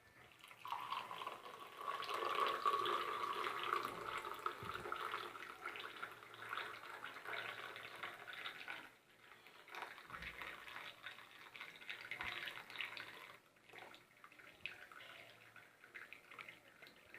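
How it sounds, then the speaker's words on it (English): Moroccan tea is poured into a glass, a soft, continuous trickle of liquid that runs steadily, then thins and breaks into quieter splashes and drips toward the end. "we are going to pour it into this glass"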